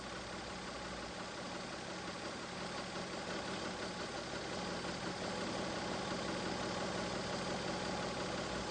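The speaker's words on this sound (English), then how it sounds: "Check to see if the idle speed is within specification." A Mazda MX-3 engine idles steadily during an idle speed adjustment, giving an even, continuous mid-low drone with no revving, heard close and alone throughout.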